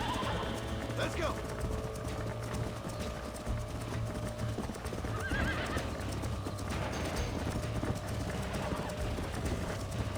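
A horse in the Red Dead Redemption video game, steady hoofbeats clip-clopping at a gallop beneath a faint neigh, with a voice talking over it throughout.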